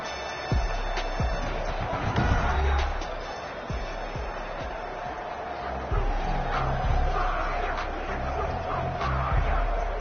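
Stadium crowd noise from a Madden NFL 21 American football game, Ravens against Patriots, as a dense steady roar of cheering fans that swells in waves, with scattered sharp thuds and shouts cutting through the continuous din.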